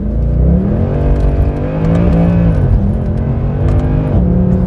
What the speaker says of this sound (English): It's lighting the rear wheels up first gear with traction control on.